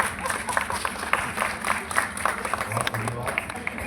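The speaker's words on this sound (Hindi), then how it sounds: "बगैर कहे आप लोग अपना आशीर्वाद तालियों के माध्यम से मंच पर पहुंचा रहे हैं" An audience claps at a live comedy show, a fairly soft, continuous wash of applause with scattered individual claps and some talking over it.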